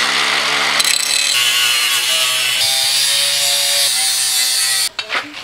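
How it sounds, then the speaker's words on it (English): An angle grinder fitted with a grinding wheel grinds a metal tab off a leaf spring mount, giving a loud continuous whine and harsh rasp close up for about five seconds before cutting off abruptly. "Grind this off here smooth"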